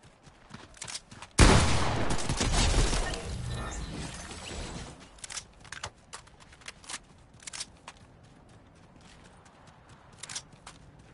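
Gunfire in the video game Fortnite: a loud burst of rapid shots early on, followed by scattered quieter shots and game noises.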